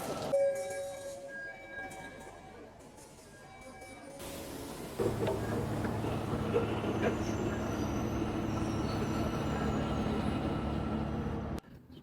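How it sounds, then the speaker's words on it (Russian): An Istanbul metro train arriving at Haliç station: after a quieter stretch of faint station ambience, a loud, steady rumble of rolling rail cars sets in and continues with faint wheel squeal before cutting off near the end. "Вот мы приехали на одну очень особенную для меня станцию метро"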